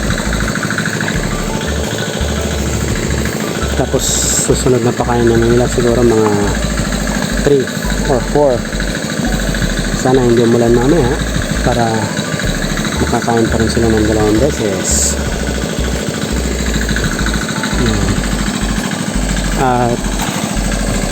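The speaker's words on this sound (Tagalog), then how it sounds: "ang naririnig nyo po sa background yung diesel water pump po natin yan." A diesel water pump runs steadily at a tilapia pond, a constant low thumping engine drone heard in the background while a person talks over it throughout.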